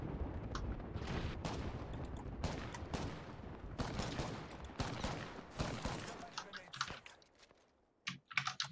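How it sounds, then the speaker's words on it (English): Rapid incoming gunfire in Apex Legends, dense crackling bursts mixed with keyboard clicking, loud and continuous before thinning out, with voices talking over it. "We're being shot from this direction."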